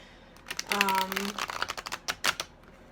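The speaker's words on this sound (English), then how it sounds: "I'm actually shuffling this, trying to keep all the cards right side up" A deck of oracle cards is shuffled close up, with a rapid run of soft flicking clicks while a voice talks over it briefly.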